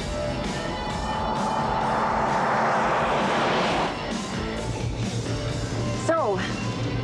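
A fixed-wing airplane roars during its takeoff, a loud sustained engine rumble that swells and then eases, with a brief voice near the end.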